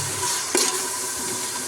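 Chopped tomato sizzles and is stirred in a hot pan for cabbage palav, a steady close frying hiss with one brief louder scrape of the spatula.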